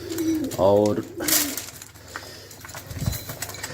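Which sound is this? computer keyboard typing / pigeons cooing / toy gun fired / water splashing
pigeons cooing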